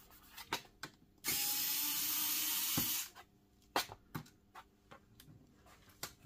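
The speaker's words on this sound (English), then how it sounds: "with a screwdriver, just remove the screws that you can see." A small screwdriver works screws out of the back panel of an Asus X100E laptop, giving scattered light clicks and ticks close up, broken by a short steady hiss partway through.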